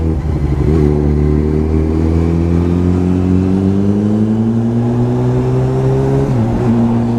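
A car engine in the wrong gear strains and drones steadily as it pulls, its pitch creeping slowly upward, then dips and recovers near the end, loud and close with no talk.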